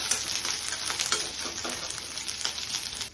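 Dried red chillies and green chillies fry in a hot pan with a steady, close crackling sizzle and scattered sharper pops and scrapes throughout.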